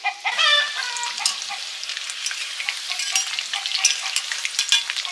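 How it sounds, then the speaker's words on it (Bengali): Chicken pakora fry a second time in hot oil, giving a dense, close sizzle. Crackles and spitting pops run through the whole stretch, with no voices. "এটা দ্বিতীয়বার ভাজা চলছে।"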